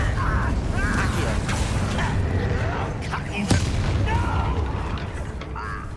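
A Bombarda spell blasts in Hogwarts Legacy, a sharp explosive boom punching through a busy, continuous battle din of spell effects and clashing magic, with a voice shouting incantations over it.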